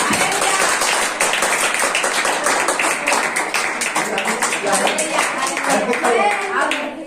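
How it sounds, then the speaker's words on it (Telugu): A church congregation claps together in a dense, fast, continuous burst of hand claps that fills the space, with voices mixed in underneath. "మీ కొరకు మీరు చప్పట్లు కొట్టుకోండి"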